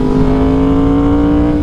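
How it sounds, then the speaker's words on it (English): A Yamaha R1 motorcycle fitted with an SC Project CR-T exhaust holds a loud, steady, close engine drone with a strong constant tone and no talking over it. "Hitting that quick shift with this exhaust."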